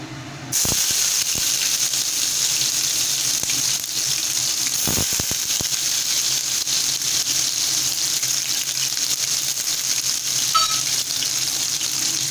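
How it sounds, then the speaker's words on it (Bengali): Chopped garlic and chilli hit hot oil and a steady, loud sizzle starts almost at once. It hisses on without a break, with a few faint clinks and no voices. "তেল গরম হয়ে গেছে এবার আমি ফোড়নে রসুন কুচি এবং লঙ্কাটা দিয়ে দিচ্ছি"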